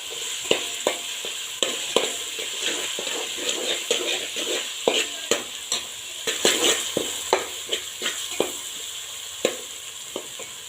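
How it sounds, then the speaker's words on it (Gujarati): Onions sizzle and fry in a pan, with repeated clinks and scrapes of a spoon stirring at an irregular rhythm, close up with no talking. "સરસ શેકી લઈશું આપણે આને। પહેલાં થોડું પિંક કલરની ડુંગળી થાય ત્યાર સુધી આને શેકવાનું છે"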